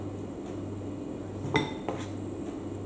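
A satay skewer swirling butter cake batter in a baking tin gives a couple of brief metallic scrapes and clinks against the tin over a quiet, steady background hum.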